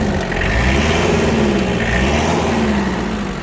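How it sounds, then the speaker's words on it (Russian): Kubota GT-3 mini tractor's four-cylinder engine running up close, a loud, steady, even hum with a low, smooth pulse and no voices. "Послушайте, как трактор работает."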